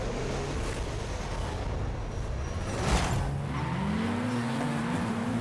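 Race cars launch at the start of a race in Forza Horizon 5, with a loud, steady engine roar and a rising rev tone that climbs after a brief burst midway.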